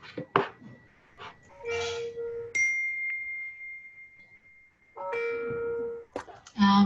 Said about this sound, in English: Can someone please turn off the notification?